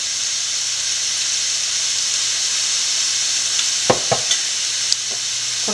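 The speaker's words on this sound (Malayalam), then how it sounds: "നല്ലപോലെ വഴറ്റാം" Crab sautéing in a pan with pepper powder and chilli powder gives a loud, continuous hiss and sizzle, with a few sharp stirring clatters near the end.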